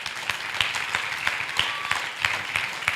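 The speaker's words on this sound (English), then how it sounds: "Can we give the Lord a hand clap?" Church congregation clapping hands in a steady rhythmic beat, fairly loud and close, with a little voice mixed in.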